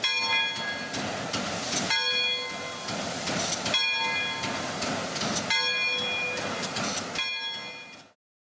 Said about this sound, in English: The bell of 1225 is a mechanical bell.